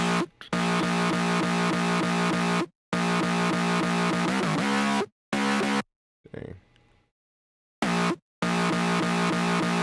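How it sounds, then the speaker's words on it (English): A thick, buzzy synth bass drones in loud sustained bursts that cut off abruptly, one note briefly bending and wobbling in pitch, from the Blast Furnace Bass preset. "So the preset is Blast Furnace Bass."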